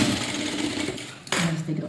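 A sewing machine stitches along the folded edge of a blouse's front panel, a brief steady mechanical whirr that breaks for a moment and then resumes, close and moderately loud.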